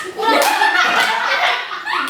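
Children clap their hands in a quick concentration clapping game while they chant and talk. The close, short burst of claps is partly buried under their voices.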